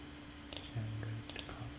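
Several crisp computer mouse clicks sound close up in quick pairs against a faint steady hum, with no talk.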